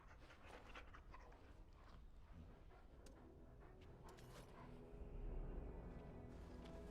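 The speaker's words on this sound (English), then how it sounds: "Hey, pupper. Yeah. Dog." Dog panting in the video game Dragon Age: Origins, a soft, steady rhythmic breathing that continues throughout under low game ambience, growing slightly louder near the end.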